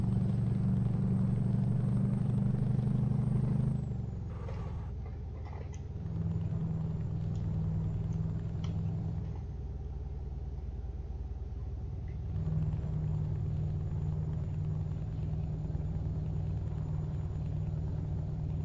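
Rumbling engine of a V8 Scania T730 truck in Euro Truck Simulator 2, droning loud and steady, briefly dropping and thinning before rising again as the throttle opens, running without a break throughout.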